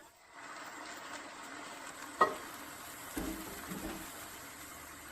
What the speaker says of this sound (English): I'm going to add the marinade liquid, the wine, with the soy sauce which has been resting over there.